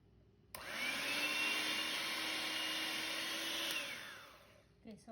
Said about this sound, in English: So here I have hand mixer, so I'm going to use this to mix it.